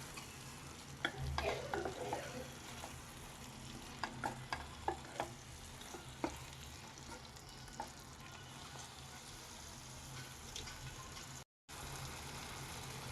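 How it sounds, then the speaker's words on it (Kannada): Onion and capsicum gently mixed into egg kadai masala in a pan, a steady close sizzle of frying with scattered clicks and scrapes of a spatula stirring, no talking. "ಈಗ ಇದನ್ನು ಜೆಂಟಲಾಗಿ ಮಿಕ್ಸ್ ಮಾಡ್ಕೊಳ್ಳೋಣ"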